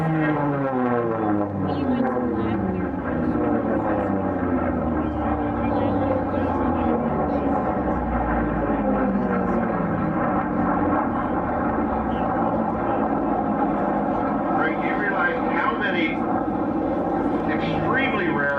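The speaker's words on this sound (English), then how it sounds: "all the different engines, you want to listen to them come around, we'll just stand here and get that sound going" Racing airplane engines roar past the pylons at the Reno air races, several loud overlapping drones rising and falling in pitch as aircraft sweep by, with no talk.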